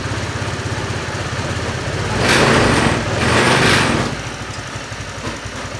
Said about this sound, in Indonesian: Oke, motor sudah mekanik bengkel nyalakan.